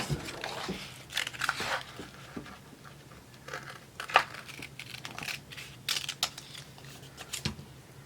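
A paper gift tag is cut out with scissors, giving close, irregular crisp snips and crinkles of paper heard alone, with a few sharper clicks along the way.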